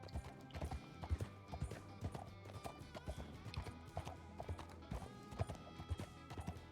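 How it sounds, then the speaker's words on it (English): Horse hooves clip-clop in a steady rhythmic gait in a video game, close and clear, with a whinny among the footfalls. "Every once in a while, you just gotta pat your horse a little bit extra."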